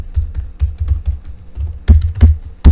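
Keystrokes on a computer keyboard as user credentials are typed at a remote desktop login on Windows, a quick irregular run of close, crisp clicks with short pauses and a louder cluster near the end.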